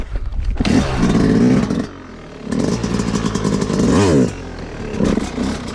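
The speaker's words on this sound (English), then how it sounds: "every time you pop that wheelie, you're gonna tap that brake, tap the brake, tap the brake, over and over" A dirt bike engine revs and bogs in loud close bursts during slow 12 o'clock wheelies, with the pitch rising and falling repeatedly and short clattering pauses where the rear brake is tapped.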